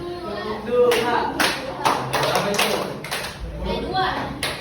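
Children clap along in a counting game, with sharp, scattered claps arriving in small bursts while a voice leads and talks over them.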